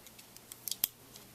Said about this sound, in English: and the scissors. Great multi-tool.